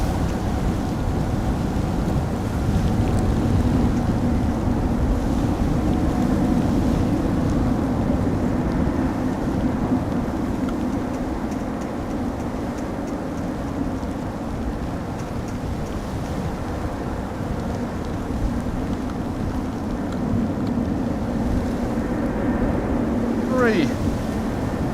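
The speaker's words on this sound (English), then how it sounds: "Keep the lens out of the wind." Steady, strong wind buffets an outdoor microphone at Amsterdam Schiphol Airport, a constant rushing roar lasting the whole stretch, with a brief rising whine near the end.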